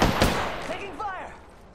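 A sharp, loud burst of gunfire rings out in the battle royale shooter Apex Legends, then decays into a fading tail with faint tonal chirps.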